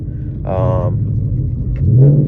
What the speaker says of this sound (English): That's a little downshift, by the way.